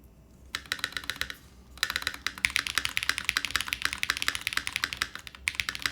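Rapid, crisp clacking of a mechanical keyboard being typed on, with a brief pause early on before the steady stream of keystrokes resumes.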